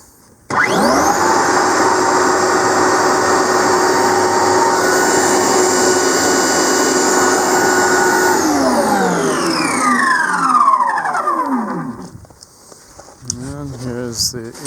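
A Dewalt DCBL590X1 cordless leaf blower starts abruptly, holds a steady loud whine and airflow roar for several seconds, then winds down to a stop.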